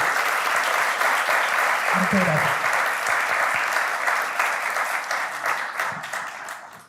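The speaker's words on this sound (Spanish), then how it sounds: "un aplauso para todos nuestros panelistas" An audience at a Chilean seminar on informal settlements (campamentos) applauds its panelists, with sustained dense clapping throughout that tapers toward the end, while a voice briefly speaks over it.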